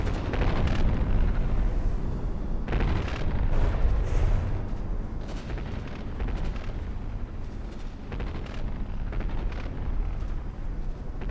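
CRAM cannons on a battleship in a naval combat video game fire relentlessly, producing a dense, loud stream of booming, rumbling blasts with heavy low-end that barely pauses across the whole stretch.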